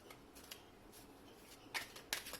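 A deck of tarot cards is shuffled in a few faint, soft riffling bursts close by, the last two slightly crisper and louder, in an otherwise quiet room.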